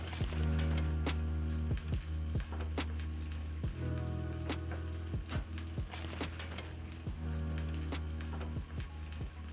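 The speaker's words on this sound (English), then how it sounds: "You can also deep fry the sausages. I just choose to do shallow frying" Sausages shallow frying in a pan of oil crackle and spit with scattered pops over a steady sizzle, close and fairly quiet, beneath a low humming drone.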